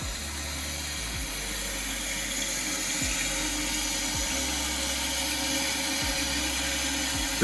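Toilet tank refilling through a newly installed Fluidmaster fill valve, a steady loud rush of running water lasting throughout, with a few faint clicks and knocks from the mechanism underneath.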